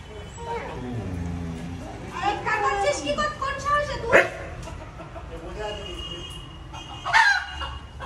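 A rooster crows over a person talking nearby, with another brief crowing call near the end amid background clucking.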